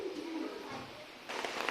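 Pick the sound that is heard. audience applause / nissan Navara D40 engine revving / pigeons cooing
pigeons cooing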